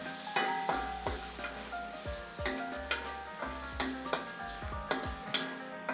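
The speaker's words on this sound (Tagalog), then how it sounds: "Crispy fry muna natin siya ng konti." Bacon fries crisp in a pan, a soft, steady sizzle punctuated by regular utensil ticks and stirring clicks, with faint musical tones underneath.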